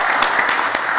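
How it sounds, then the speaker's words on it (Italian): A studio audience on an Italian TV show applauds, a brief, loud, steady burst of clapping. "l'applauso anche dallo studio"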